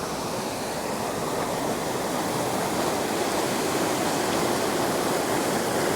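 Floodwater on the River Soar rushes in a steady, loud, broad roar that stays constant throughout, with no voices.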